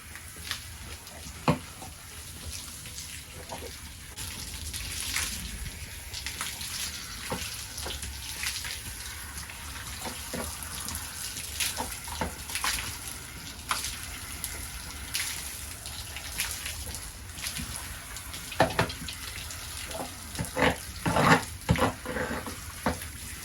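Water from a hose splashes and patters steadily while a horse is rinsed down before a show, with scattered sharper splashes and drips and a continuous wet hiss throughout.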